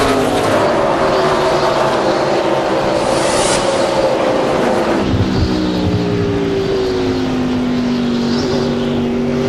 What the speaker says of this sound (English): And you hear the throttle in Kenny's car